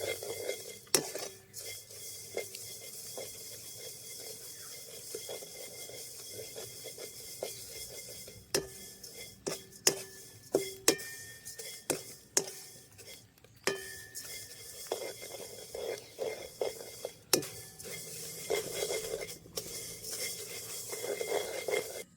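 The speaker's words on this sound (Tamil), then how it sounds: "நான் இந்த லட்டுக்கு வாசத்துக்காக 4 ஏலக்காயும் அவல் வறுக்கைக்கே சேர்த்து வறுக்கிறேன்." Flattened rice (aval) roasting with cardamom pods in a pan for laddu, with repeated metallic scrapes and clinks of a spoon against the pan over a soft, dry rustling of the flakes.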